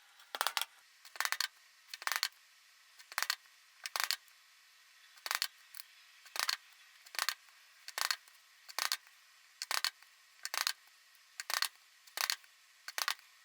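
Leather stitching chisels driven through leather with a scrap leather backer, making about sixteen sharp, crisp mallet strikes spaced roughly evenly at close range, with no talking.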